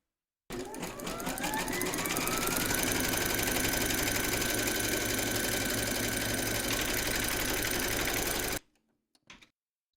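An embroidery machine stitches a placement round through batting taped over a hooped outline, a steady, loud, fast mechanical whir with rapid needle rhythm running alone for about eight seconds before stopping abruptly, followed by a few faint clicks.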